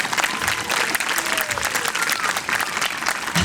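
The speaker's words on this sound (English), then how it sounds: "let him know with a nice round of applause" A crowd applauds a Cherokee dancer, with steady, dense clapping that stays loud and even throughout, and no talk over it.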